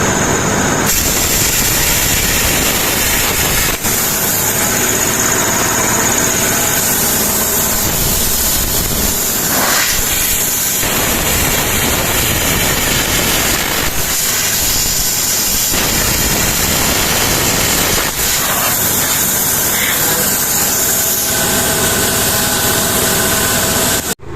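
A generator engine for powering a welder, plasma cutter and compressor runs steadily in a garage, a loud continuous mechanical drone with a few brief dips and shifts in tone throughout, no voices.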